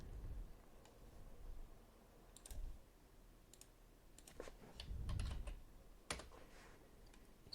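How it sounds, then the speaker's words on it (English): Computer keyboard keys clicking in a quiet room on a Windows PC, with light, irregular taps in short clusters that grow busier toward the end, heard alone with no talking. "If you type in here cmd,"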